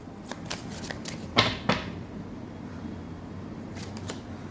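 Tarot cards being drawn and shuffled, with a few crisp riffles and snaps, two of them louder, over a quiet steady background hum.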